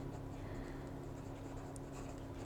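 Pen nib writing on paper while a Ferris Wheel Press ink is tested, a soft continuous scratchy scrawl held close and steady throughout, with no talking.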